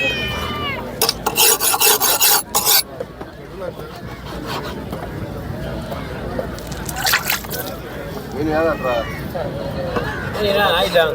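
A knife slices through a kingfish (surmai) into steaks with rough, rasping cuts in loud bursts, and voices come and go between them.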